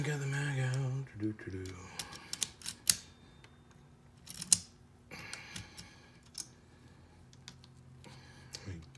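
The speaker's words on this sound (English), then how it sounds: "I'm twisting the bushing the wrong way." Metal clicks and light scraping as the barrel bushing of a Zastava M70 pistol is twisted, a few sharp ticks scattered through the stretch with a voice talking at the start.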